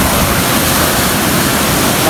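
Fast-flowing water rushes through a village canal near a swimming spot, a loud, dense, unbroken roar close by with no talk over it.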